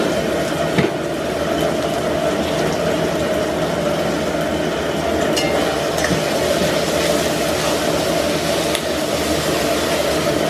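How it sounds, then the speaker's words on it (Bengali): Onions with a pinch of salt frying in oil in a pan, a steady, loud sizzle running throughout with faint scrapes of stirring layered over it. "পেঁয়াজগুলোর মধ্যে একটু নুন দিয়ে দেবো যাতে তাড়াতাড়ি ভাজা হবে।"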